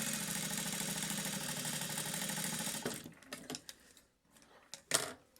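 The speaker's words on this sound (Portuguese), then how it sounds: "E passo uma costura, um pé de mão." A sewing machine stitching a seam on a fabric wallet with a lining, a quiet rapid mechanical whirr that runs steadily for about three seconds, then gives way to soft handling clicks and rustles.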